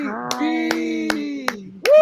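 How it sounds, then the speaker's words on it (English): Sharp hand claps spaced evenly, about one every half second, ring out over a sustained musical tone during an online talent show, ending as the music swells. "Give a big warm round of applause to Mel EB"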